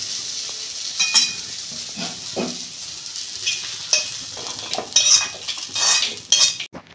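A spatula scrapes and clinks around a wok while reddish-fried bitter gourd is lifted out of sizzling oil, close and fairly loud, irregular metallic strokes over a steady fry hiss, with no speech.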